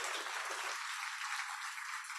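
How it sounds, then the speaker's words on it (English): An audience at an access-to-justice awards celebration applauds itself in a brief, dense burst of clapping that stays steady and moderately loud. "Please give yourself a round of applause."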